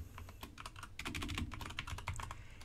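Rapid keystrokes on a computer keyboard while entering a Linux filesystem command at the terminal, a steady close-up clatter of individual key presses with no voices.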